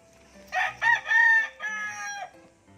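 Rooster crowing once on a farm where chickens are raised, a multi-part cock-a-doodle-doo call, fairly distant and moderately loud, with faint clucking around it and no talking.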